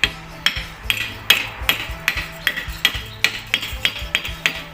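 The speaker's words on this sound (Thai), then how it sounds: "ซีนขอบนกำลังตอกเข้า ใช้ตอกเข้าก็ได้นะค่อยๆเคาะเข้านะ" Steady light metallic tapping as a small seal is driven into an Isuzu power steering box, about twenty sharp evenly spaced knocks with ringing tails, close and clear with no talk.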